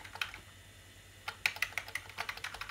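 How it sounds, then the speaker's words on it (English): Keys tapped on an Amiga A600 home computer keyboard, a few isolated clicks followed by a quicker run of sharp plastic keystrokes, close but fairly quiet. "I have to use the Amiga key and the cursors to move around"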